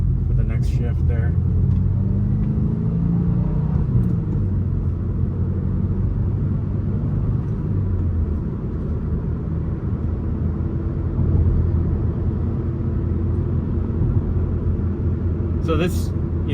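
A manual car cruises with a steady low engine rumble, and a brief rev blip swells and falls during a heel-toe downshift with rev matching, all heard from inside the cabin.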